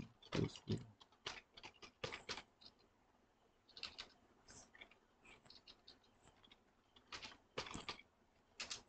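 Typing on a computer keyboard while entering text into an Excel spreadsheet, quiet clusters of close key clicks in irregular bursts with brief pauses between them.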